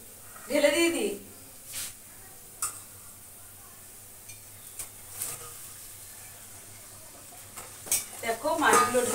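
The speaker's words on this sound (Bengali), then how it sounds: "দেখো মাছগুলো ঢেলেই দিয়ে দিলাম" Fried pabda fish tipped into a pot of boiling gravy, heard as a brief loud splash and sizzle at the start and again near the end, with utensil clinks and a soft bubbling between, and a person talking quietly.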